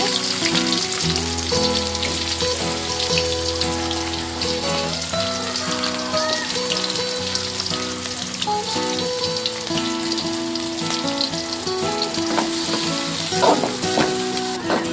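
Onions frying in hot oil in a pan after mustard seeds, a steady dense sizzle and crackle running throughout under background music.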